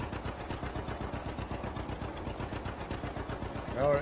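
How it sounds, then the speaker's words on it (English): An old farm tractor from around 1949 idling in a field with a steady, low, rhythmic popping chug, close and continuous, with a brief voice near the end. "Tractor popping away quite happily."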